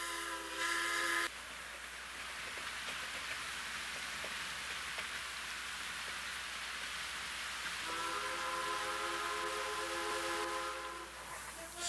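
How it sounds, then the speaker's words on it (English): K36 steam locomotive number 480 hauls a Silverton train across bridges west of town, a steady, hissing roar that holds for several seconds, with brief tonal sounds at the start and end. "first Silverton returns with K36 number 480 and crosses the three bridges west of town"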